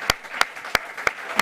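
Applause in a room during a live broadcast: five sharp, evenly spaced claps about a third of a second apart, close and fairly faint, with no talk over them.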